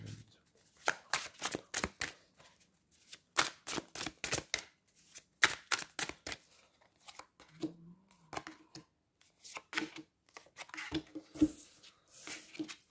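Tarot cards shuffled for a reading, giving repeated crisp bursts of riffling and flicking in quick runs, close and fairly quiet, with a brief stretch of speech partway through.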